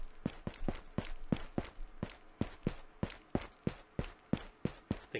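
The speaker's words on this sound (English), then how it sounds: "I think I heard footsteps" Steady footsteps in a video game, about a dozen even, quiet steps at a brisk walking pace, each a short soft thud, heard alone without talk.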